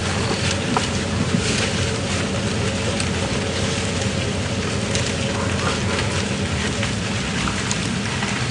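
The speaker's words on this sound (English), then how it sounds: "The wind." Steady, loud wind buffets the microphone on a safari game drive at Djuma Game Reserve, a continuous broadband rush with gusty fluctuations and no voices over it.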